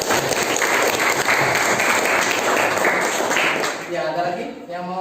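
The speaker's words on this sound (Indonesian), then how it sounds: "Tepuk tangan dulu." A class of students claps together in loud, sustained applause that tapers off as a voice begins speaking near the end.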